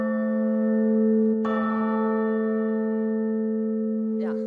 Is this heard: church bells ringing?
yes